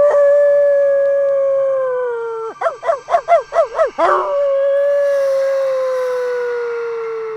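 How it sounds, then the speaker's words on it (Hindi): Dogs at night give a long sustained howl, break into a quick burst of about six loud barks, then return to steady howling that slowly fades. "अचानक कुत्तों के जोर जोर से भौंकने की आवाज़ आने लगी।"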